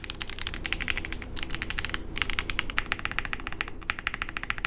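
QK65 mechanical keyboard with JWK-style switches (PC top housing, nine-line bottom housing), an aluminum plate and dye-sublimated Matcha Latte keycaps, typed on up close: a fast, continuous stream of crisp key clacks with brief pauses.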